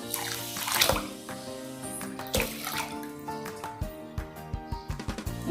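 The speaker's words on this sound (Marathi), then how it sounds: "दोन वाट्या पाणी घातलेलं आहे" Water is poured into a pot as two bowls of water go in with broken rice grits for Nag Panchami kanole kheer in a home kitchen; a splashing, running pour comes close by, followed by several short splashes and clinks.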